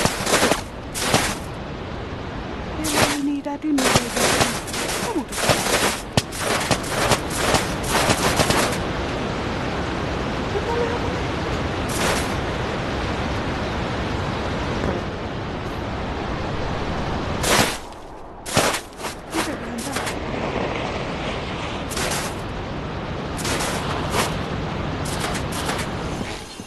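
Rapid bursts of gunfire in the VR video game Animal Company, clustered volleys of loud sharp shots separated by brief pauses, repeating across the scene.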